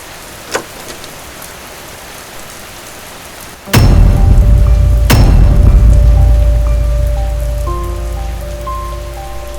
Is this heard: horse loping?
no